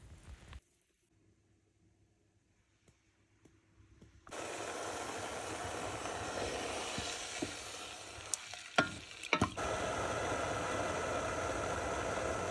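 A saucepan of sugar, salt and water warms over medium heat, giving a steady, close hiss that starts suddenly after a quiet stretch and carries on evenly with a few brief clicks and scrapes.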